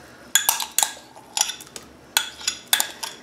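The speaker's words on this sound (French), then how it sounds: "Je mélange." A gelatin and milk mixture is stirred in a bowl, with a spoon or whisk clinking sharply against the side in uneven bursts of strokes, close and distinct, with no speech.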